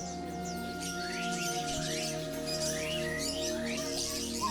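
Small caged songbirds chirp and trill repeatedly in a Hong Kong bird market, a busy overlapping chorus of rising calls over a steady background hum.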